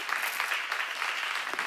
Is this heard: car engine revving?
no